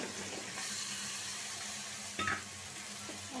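Potatoes and pointed gourd hit a pan of frying spice masala in oil, giving a steady, broad sizzle with a brief louder hiss partway through as the pieces settle.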